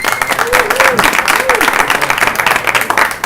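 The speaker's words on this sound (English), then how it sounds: "Can we give them all a big round of applause?" Audience applause for panel speakers at a Black History Month film screening, a dense steady patter of clapping held for a few seconds, with faint voices and a few brief tonal sounds mixed in.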